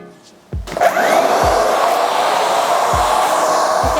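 A hair dryer switches on and runs with a loud, steady, close whoosh while drying hair at the root, with a few low thumps as it is handled.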